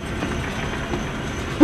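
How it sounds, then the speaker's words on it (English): A train in the video game Zoochosis rumbles steadily in a continuous rolling drone, moderately loud and unbroken, with a sudden louder burst at the very end. "A train? Trolleys?"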